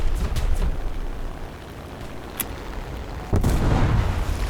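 Bombs released from a Hawk III biplane in War Thunder exploding on the ground as deep, rumbling booms, a sustained low roar with a sharp burst near the end, with no talk.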